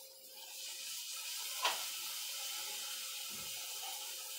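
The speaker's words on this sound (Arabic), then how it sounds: "واحط كوبايه ميه." A cup of water poured into a pan while cooking chicken in sauce, a faint, steady splashing hiss with a brief clink midway.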